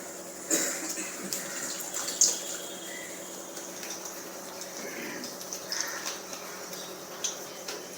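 Water is poured into a cooking pot on the stove as a soft, steady splashing trickle with faint clinks, heard under a low kitchen background.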